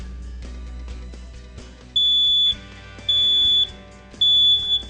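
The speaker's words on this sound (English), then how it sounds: "What a smoke alarm basically does is it senses smoke in the air and goes off like an alarm clock." A household smoke alarm sounds three loud, shrill electronic beeps in a regular rhythm, close by, over a faint background.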